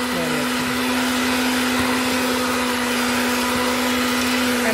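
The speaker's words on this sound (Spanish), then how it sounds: "Ahorita y voy a empezar a batir." An electric hand mixer beats bread dough for pan de nata, a steady loud motor whine with a constant hum running unbroken throughout.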